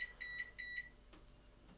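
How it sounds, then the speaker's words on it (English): Several short electronic beeps come from a microwave oven heating a frozen Scotch pie, bright tones in two quick pairs at the start, followed by a quiet stretch and a couple of faint clicks. "So I'll shove that in the microwave."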